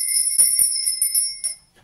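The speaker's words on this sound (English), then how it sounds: "I'm going to be ringing my lovely lady bell." A small hand bell rings in a quiet room, struck several times in a quick irregular run, each strike bright and sustained with a long shimmering tone that keeps sounding underneath before fading out.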